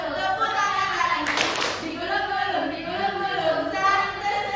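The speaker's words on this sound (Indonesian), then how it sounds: "Buka tutup, tepuk tangan lagi." Hand clapping in an Indonesian elementary classroom during a sixth-grade lesson, a brief burst of claps near the middle over ongoing classroom sound and a voice singing or chanting.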